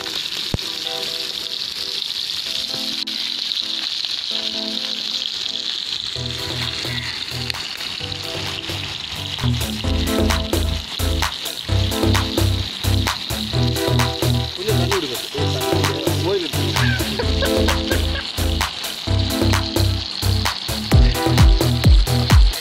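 Fish head frying in hot oil beside a pond on an island in the Maldives, with steady sizzling and crackling that grows louder and busier partway through, punctuated by sharp pops and low clunks.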